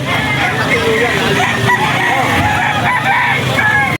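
A Sweater gamefowl rooster crows loud and close at a busy pet market, its drawn-out call rising over crowd chatter and people talking nearby.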